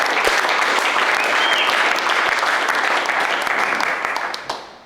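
A company team gives a round of applause at an all-team update, brisk dense clapping from a group that fades out over the last second.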